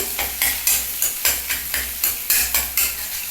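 Onions go into hot oil and are stirred while potato curry is made, giving a loud, close sizzle punctuated by regular scraping strokes of the spoon against the pan, about two per second.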